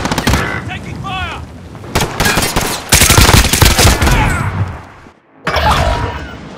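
Gunfire in Call of Duty: Modern Warfare, loud dense bursts of automatic shots that come in waves with a short gap, close and heavy, with in-game voices calling out under the shooting.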